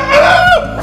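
A chicken gives a single drawn-out, close cluck or squawk with a rising then falling tone, loud and clear with no talk over it.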